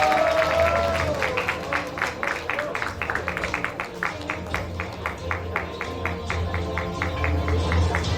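An audience at a sports awards ceremony claps steadily, a dense patter of many hands of even strength, with a voice speaking briefly at the start.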